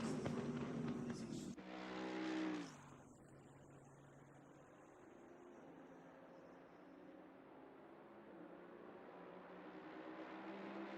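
A Mercedes GT3 race car at Mount Panorama in a racing video game revs hard, then the engine drops to a faint, steady drone that slowly climbs in pitch.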